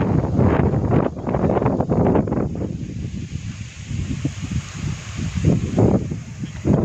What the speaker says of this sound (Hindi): ये देखो हवा कितनी जबरदस्त चल रही है